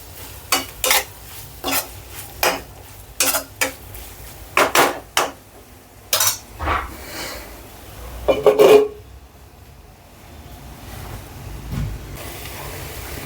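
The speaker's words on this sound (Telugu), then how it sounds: "1 కప్పు పొటాటో వేసుకొని మళ్ళీ ఒకసారి కలిపేసుకుందాం. ఇట్లా ఒక 30 సెకండ్లు దీన్ని అయితే వేపుకుందాం." Potatoes for poori curry get stirred and fried in a pan. A spoon scrapes against the metal in a run of quick, rhythmic strokes, then gives way to a quieter, steady sizzle, with no voices.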